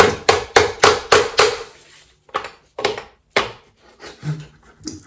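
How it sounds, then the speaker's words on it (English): A hammer strikes metal during disassembly of a Renault 5 GT Turbo engine, sharp loud bangs in a quick series of about six, then a few slower isolated blows with short pauses between. "If in doubt, hit it with a hammer."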